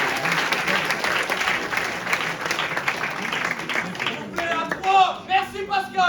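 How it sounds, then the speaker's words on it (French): Studio audience applause during a live televised charity results announcement, a dense burst of clapping for about four seconds before a voice speaks over the fading claps. "Vous pouvez applaudir."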